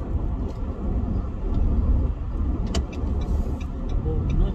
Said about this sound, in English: traffic on the other side